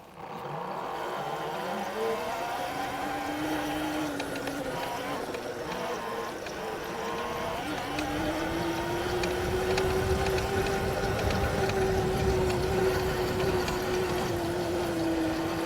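An Ebox V2 electric boat runs at top speed with a steady motor whine that rises in pitch, while water rushes loudly and continuously around the hull.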